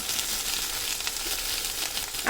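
Dried fish dropped into a pan of sautéed small shallots, a bright steady sizzle with crackling bursts throughout, close and fairly loud.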